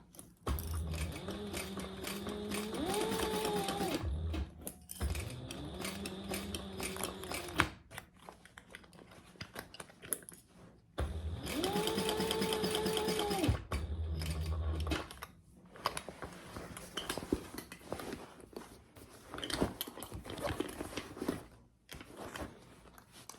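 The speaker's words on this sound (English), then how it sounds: "You can see I'm sewing from the inside the bag, and I'm just pulling this back as I sew." A sewing machine stitching a bag from the inside: two bursts of motor whir with rapid needle clatter, separated by quieter handling noises.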